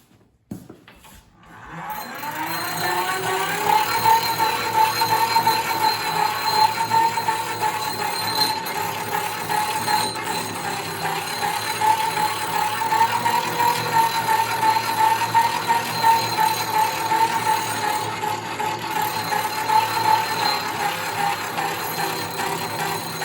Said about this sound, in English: we're going to come over to the grinder, and we're just going to actually clean this up.